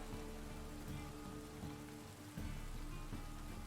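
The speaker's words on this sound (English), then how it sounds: "Looks like rain." Soft, steady rain in The Witcher 3: The Wild Hunt patters on a surface, a faint continuous hiss with occasional light taps and no voices.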